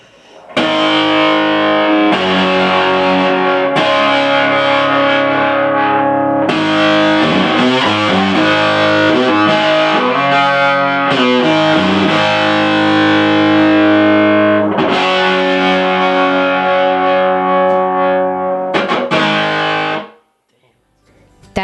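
Distorted electric guitar through a hand-made effects pedal built with vintage transistors, with a thick, fuzzy overdriven tone, plays sustained chords and phrases, loud and continuous, with brief pauses, then fades out.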